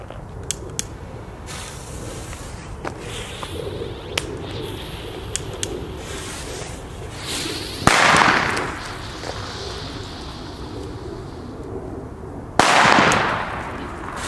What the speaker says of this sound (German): Wir machen jetzt einen Weco zweimal China Böller D.